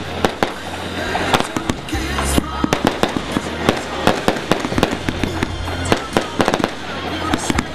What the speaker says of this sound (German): Einmal zünden, 126 Gramm, 126 Schuss, 1840 Gramm Netto-Explosivmasse.